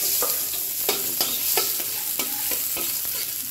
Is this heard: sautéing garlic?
yes